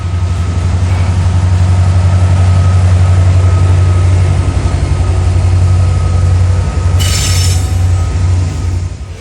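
A heavy freight train near Chattanooga, Tennessee, with mid-train locomotives at full power, gives a loud, steady diesel drone and rolling wheel rumble, with a brief hissing burst near the end.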